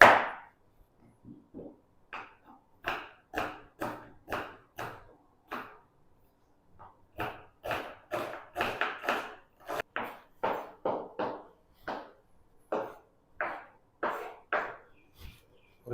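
A knife chops an onion on a board in a series of sharp, close taps, grouped in quick bursts with short pauses between them, with no talk.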